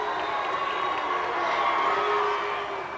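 A tremendous crowd of near 6,000 cheers loudly and steadily at a 1996 Class A girls high school basketball championship game, the roar sustained throughout with shouting voices mixed in.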